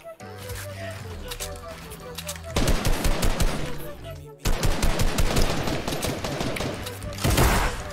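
Gunfire in the video game Fortnite: dense, rapid bursts of automatic weapon fire, loud and close, with short breaks between volleys.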